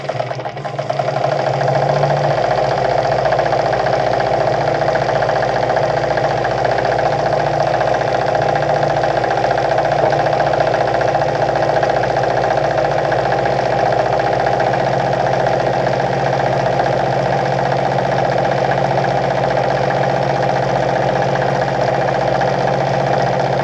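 A Vigorelli ZZ/A robot sewing machine runs nonstop sewing stitch pattern number 1, a loud, steady motor whir with a constant droning tone and no pauses or voices.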